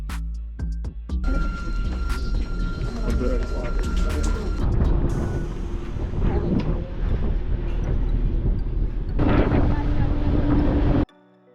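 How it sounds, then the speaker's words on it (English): Strong wind at the summit of Pikes Peak in Colorado buffets the microphone in loud, continuous roaring gusts from an outdoor viewing platform, with a short quieter gap before the rumble returns. "It's very breezy."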